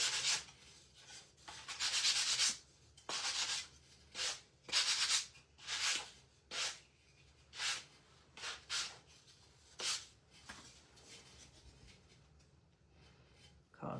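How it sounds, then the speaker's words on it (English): Hand sanding of wood for a rustic primitive star Easter craft, a series of about a dozen rasping strokes in uneven rhythm, close and moderately loud, fading to sparser rubs toward the end. "Sand this down real quick."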